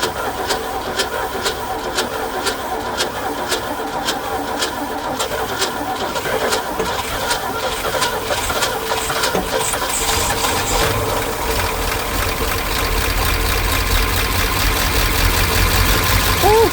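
A 1969 Ford F100 engine that has sat for decades cranks with a rapid, regular ticking and then catches into a rough, rumbling idle that grows louder toward the end, with a voice faintly underneath.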